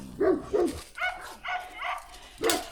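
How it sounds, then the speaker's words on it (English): A dog barks repeatedly in short, separate yaps, about six of them in quick succession at moderate distance. "something about dog barking is like nails on a chalkboard"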